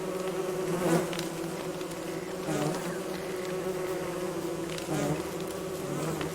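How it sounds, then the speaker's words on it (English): A swarm of killer bees in the survival game Don't Starve drones and buzzes steadily, a continuous layered hum with slight swells in pitch, no talking. "Attacking them also summons other killer bees in the area"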